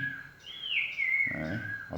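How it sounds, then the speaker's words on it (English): Birds chirp and whistle in a short, clear call that rises and holds steady, followed by softer fluttering notes, close by and alone with no talk. "Of course, the birds want to chime in."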